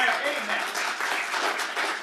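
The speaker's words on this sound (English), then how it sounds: "We're focused on comments, not clapping." Applause from an audience at a city planning commission meeting, a steady wash of clapping over the full two seconds, moderately loud and close, with no talk audible.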